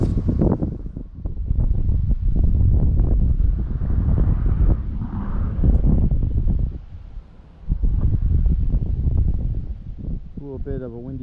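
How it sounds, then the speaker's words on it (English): Wind gusting at Woodbury Creek during magnet fishing, heavy low buffeting rumble across the microphone that rises and drops in waves, with a brief lull before picking up again. "A little bit of a windy day today."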